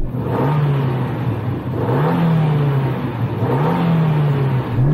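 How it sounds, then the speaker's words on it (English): A Suzuki Jimny's small engine is revved repeatedly, rising and falling in three distinct surges with a whirring, buzzy tone, close and loud with no one talking. "So I'm going to rev up my little Jimny."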